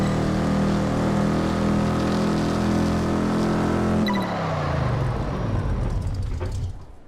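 Pink Ford Mustang driven in Test Drive Unlimited 2, its engine holding a loud steady droning rev before dropping into a falling pitch as it shifts or slows, then fading near the end.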